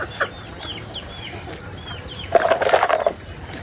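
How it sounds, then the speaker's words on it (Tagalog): Several chickens cluck and murmur nearby, rising into a brief louder flurry of calls near the end, with no voices. "nagpapakain na rin si Bossing ng kanyang mga alagang manok"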